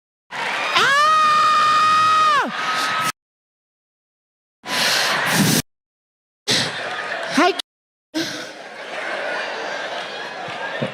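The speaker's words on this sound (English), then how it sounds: "Listen to the women screaming and" Women in a comedy club audience scream and cheer loudly in sustained bursts, with a high rising shriek early on, broken by sudden silent gaps and mixed with crowd chatter and shouting.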